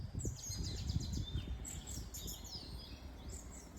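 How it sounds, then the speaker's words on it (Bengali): Birds chirp and tweet in quiet countryside near Bichitrapur, with repeated high calls above a low rumble of wind or distant noise, fairly faint throughout. "সে কি পাখির ডাক!"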